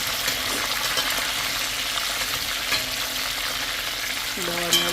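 Chicken pieces sizzle in a frying pan on a home stove while browning for a stew, a steady close hiss and crackle throughout, with a faint clink of a utensil near the end.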